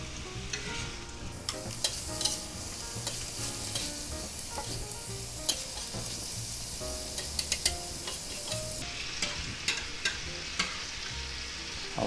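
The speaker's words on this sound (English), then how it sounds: "we'll just give that a little stir" Onions frying in a pan for a cheeseburger pizza filling crackle in a steady loud sizzle, broken by repeated scraping clicks of a utensil stirring them.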